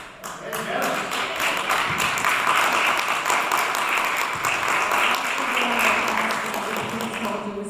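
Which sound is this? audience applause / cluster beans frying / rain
audience applause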